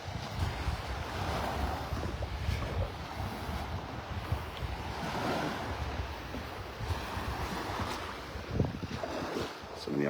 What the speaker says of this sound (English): ooh, windy, that wind's picking up.